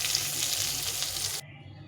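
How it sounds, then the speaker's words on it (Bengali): Eggplant pieces rubbed with salt and turmeric fry in hot oil with a loud, steady, close sizzle that cuts off abruptly to a quieter hiss. "বেগুনগুলো ভেজে নেব"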